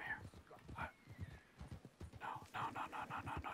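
Horse hooves clop in a steady rhythm in Red Dead Redemption 2, with a whinny and a burst of repeated hoofbeats near the end while someone speaks softly.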